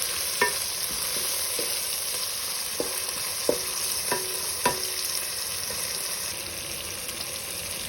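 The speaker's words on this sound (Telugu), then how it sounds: "టొమాటో, కరివేపాకు వేసి కాస్త బాగా కలర్ చేంజ్ అయ్యే వరకు వేయించుకోవాలి." Tomato and curry leaves fry in a pan with a steady sizzle, while a spoon scrapes and stirs in several sharp, irregular taps. No one speaks.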